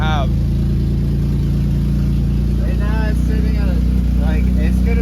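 A Nissan G35 with a VQ35DE engine idles roughly, keeping up a loud, continuous, uneven rumble while a person talks over it nearby.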